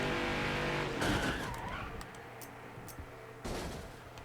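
A NASCAR Next Gen race car crashes in NASCAR Heat 5, opening with a loud engine drone, then a sudden impact, tire scrub and clatter, and a second hard hit near the end.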